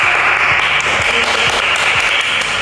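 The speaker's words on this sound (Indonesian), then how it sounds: "Beri tepuk tangan kelompok 1." Classroom applause for a student group after a presentation, a steady wash of many hands clapping at once, loud and close, with no talk over it.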